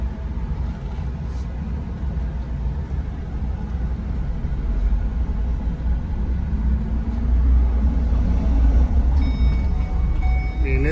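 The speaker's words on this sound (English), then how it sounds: "We're going to take a little test drive in it." A 2012 Terradyne Gurkha armored truck rumbles steadily through a test drive, its heavy engine drone constant and close, swelling slightly toward the end with faint beeping near the close.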